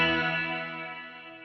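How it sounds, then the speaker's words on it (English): A guitar note rings out through a reverb effect on a Headrush unit with the decay shortened, a bright chorus-like tail that fades smoothly over about a second and a half, alone with no talk. "it's just a very good sounding reverb"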